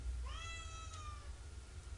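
A cat meows once inside the Guild Wars 2 video game, a clear rising-and-falling cry lasting about a second, heard alone over a low steady background rumble.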